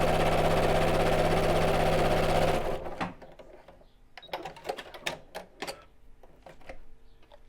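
A sewing machine stitches the seam of a cork tote bag in one steady, close run that stops after a few seconds, followed by soft rustling and handling taps.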